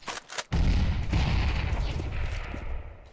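A grenade blast in a tactical shooter video game, one loud deep boom that rolls and decays over a few seconds after a couple of short sharp cracks.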